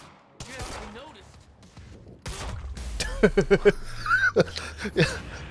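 Gunfire from the video game Quantum Break cracks out in a quick cluster of close sharp shots, preceded by scattered thumps and game effects, with a voice audible in places.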